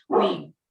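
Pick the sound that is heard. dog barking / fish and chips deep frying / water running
dog barking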